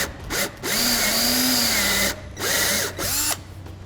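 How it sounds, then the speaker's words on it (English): A power drill with a step bit enlarges a hole during a winch installation on a 2006 Yamaha Kodiak ATV. It whines loudly and close in three bursts, its pitch sagging and rising as it bites, with short pauses between. "We'll enlarge that out until we don't see any paint marker left with a step bit."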